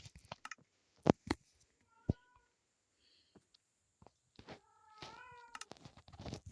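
A house cat gives one short, close meow near the end, surrounded by scattered sharp clicks and knocks in an otherwise quiet room.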